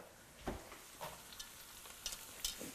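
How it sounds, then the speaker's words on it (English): Onions browning in a hot pan, sizzling steadily with a few soft scrapes as they are stirred, close and fairly quiet with no talking. "I'm gonna give the onions a little stir here because they're starting to brown a little bit"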